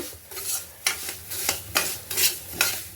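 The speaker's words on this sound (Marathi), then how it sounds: "आणि सतत हलवत राहायचं आहे थोडासा लालसर होईपर्यंत आपण ह्याला भाजणार आहोत" Broken wheat being dry-roasted for kheer in a pan, stirred constantly over medium-high heat: rhythmic scraping sweeps about every half second, close and fairly loud, with a faint sizzle beneath and no talk.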